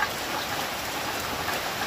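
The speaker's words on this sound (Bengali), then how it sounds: "বৃষ্টি হচ্ছে কিন্তু গরম যাচ্ছে না।" Steady rain falling during the early monsoon, a soft continuous hiss of drops on surfaces that stays even and unbroken throughout, with no voices.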